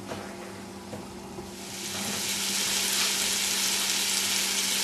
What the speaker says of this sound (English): As the onions and potatoes are cooking, you stir the tomatoes and you crush them with this little apparatus here made out of wood.